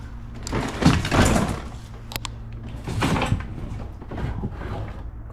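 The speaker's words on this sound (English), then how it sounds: "Mercedes door." A Mercedes car door on an abandoned, water-damaged shipwreck is worked open or shut, giving a few muffled mechanical thuds and a sharp click amid echoing room noise, with no talk over it.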